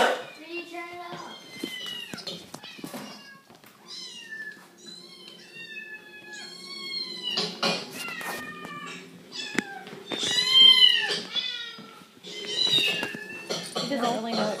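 Recorded cats meowing repeatedly in varied, drawn-out calls, some rising into caterwauls, played back close and clear with brief pauses between cries.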